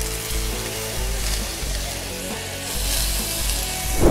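Large shrimp seasoned with salt, pepper and olive oil sizzle steadily in a hot grill pan, a close, continuous crackle that swells briefly as they are moved.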